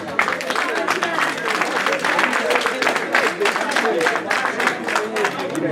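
Applause from an audience at an association's election ceremony in France, dense continuous clapping filling the room and holding steady throughout, with voices mixed into the crowd noise.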